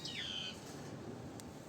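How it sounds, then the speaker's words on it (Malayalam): A bird calls in a video game, a bright descending chirp near the start, then a quieter tick later over a steady background hum. "കിളിയടാ കിളി"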